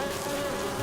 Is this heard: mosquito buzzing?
yes